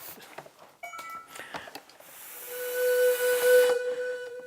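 A breathy pipe blown like a pan flute starts after scattered clicks and handling noise, then holds one sustained airy tone with a strong hiss, close and steady.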